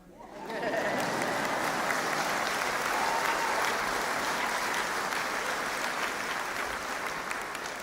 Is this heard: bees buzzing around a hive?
no